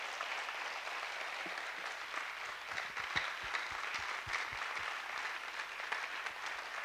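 A prayer-meeting congregation in Chandigarh claps for the Lord as a soft, steady wash of applause that stays at an even level throughout, with a few low thumps mixed in.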